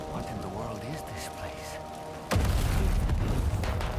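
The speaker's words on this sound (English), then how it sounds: "that is a lot of fucking fireworks" Fireworks burst in the video game Death Stranding 2: On The Beach. A quiet stretch gives way to a sudden, loud, continuous barrage of rumbling blasts that fills the rest of the clip.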